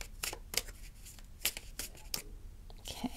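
Tarot cards are shuffled by hand in a quiet room: several sharp, separate papery snaps and riffles at an uneven pace, close and fairly clear, with no speech.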